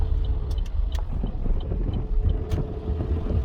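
Opel Corsa 1.4 90 HP petrol car pulling slowly away onto a road, a steady low engine and road rumble heard from inside with faint wind buffeting and a few light clicks.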